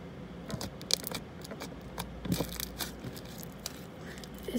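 Clicky, stretchy slime is squeezed and pulled by hand close up, making irregular sharp clicks and crackly pops over a quiet background.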